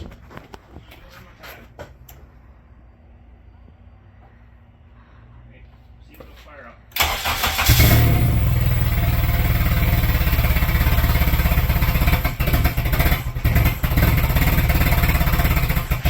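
A budget Honda K24 AWD turbo engine, running rich on a bench, catches after a quiet stretch of faint clatter and settles into a loud, steady, rough roar that continues to the end.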